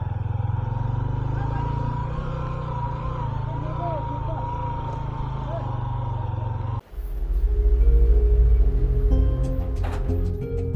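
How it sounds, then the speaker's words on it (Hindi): A motorbike rides through a village in the Kalash Valley, its steady engine rumble close by, then shifting to a louder, rougher drone partway through. "अभी मैं बाइक पार करता हूँ और फिर आप लोगों को दिखाता हूँ।"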